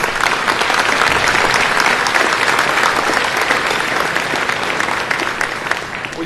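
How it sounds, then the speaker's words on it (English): An audience applauds the board of directors at a Head Start award ceremony, steady dense clapping that stays loud and even throughout without pause, no voices on top. "Let's give them a round of applause."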